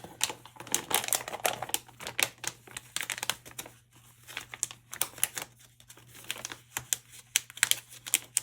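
Crinkling and tearing of RocketBook notebook packaging as it is ripped open, a quiet, close series of irregular crackles and rips with a low steady hum underneath.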